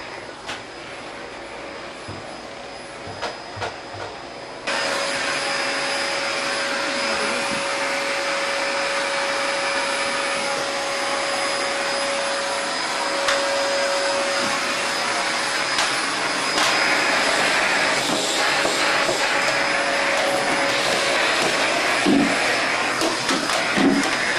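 A Sharp vacuum cleaner in a home in Japan runs with a steady loud whine and airy roar that jumps in intensity a few seconds in and keeps going alone.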